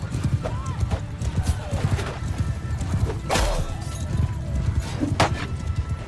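Many horses in the video game Mount & Blade 2: Bannerlord, hooves clip-clopping in a busy rhythm with whinnies and neighs rising above, plus occasional sharp clanks, all fairly close.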